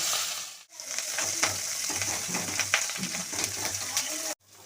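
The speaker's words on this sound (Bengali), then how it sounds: "এই মাছের ডিমটা আমি কড়াই তেল গরম হয়ে গেছে, আমি দিয়ে দিচ্ছি" Fish roe dropped into hot oil in a wok, flavoured with garlic and ginger paste, crackling in a dense, loud sizzle with spatula stirring scrapes, cut off sharply near the end.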